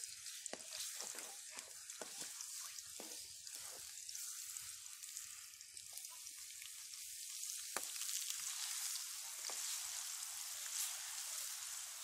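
Crushed garlic with salt and chili frying in fat for tasha, a soft continuous sizzle with crackling pops and occasional stirring clicks, fairly quiet and alone without talk.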